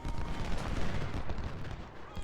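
Dense, continuous volleys of musket gunfire mixed with booming cannon fire from a Civil War battle in the strategy game Ultimate General: Civil War, loud and unbroken throughout with no pauses.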